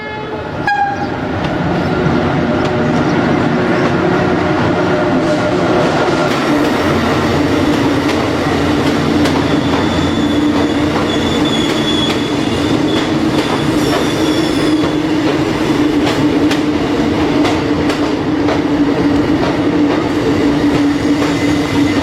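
A CT passenger train hauled by an E1300 locomotive rolls into a Moroccan station on the Casa–Tangier line, a loud steady rumble of wheels and cars with a horn note and faint squeals building as it arrives, no talk.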